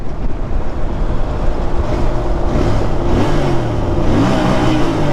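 Yamaha R3 twin-cylinder motorcycle during a drag race, engine droning loudly and steadily close by as it revs and pulls, with heavy wind rush and no talking.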